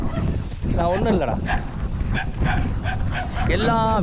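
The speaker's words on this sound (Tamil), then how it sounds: "அது வந்து வீட்டுக்கு நாட்டு நாய் வந்து வீட்டுக்கு பயங்கரமான காவலுங்க" A native village dog barks in a rural village setting, several sharp barks and yips in bursts over steady wind noise and background sounds.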